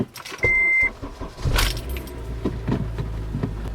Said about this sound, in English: We're gonna turn our car on.